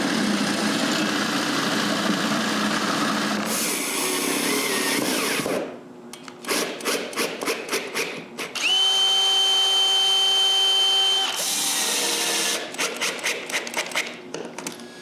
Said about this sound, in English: I also need to mark and drill the holes to keep it in place.